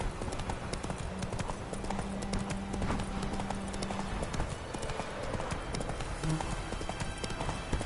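Roach, a horse in The Witcher 3 video game, gallops with a fast, steady clip-clop of hooves that runs the whole way through, and a faint voice sits low in the background.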